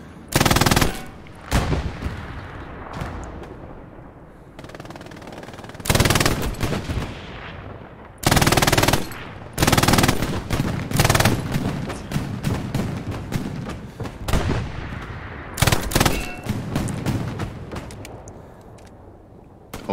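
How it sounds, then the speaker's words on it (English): Gunfire crackles through a tactical team practice outdoors, with dense bursts of rapid shots and louder close volleys repeating across the whole stretch, some sharp and near, others softer in between. "Getting shots from the west."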